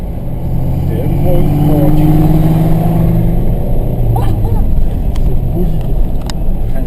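An Aston Martin sports car accelerates close by, its engine note rising in a deep, loud roar that swells over a few seconds and then holds, with engine tones sweeping upward.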